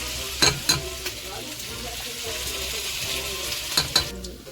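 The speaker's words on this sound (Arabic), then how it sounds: "هنشوح الزبده في الدقيق لحد ما لونها يبقى ايه، بقى جولد كده" Butter and flour sautéed together into a golden roux for béchamel, a soft continuous sizzle with a few sharp utensil clinks against the pan.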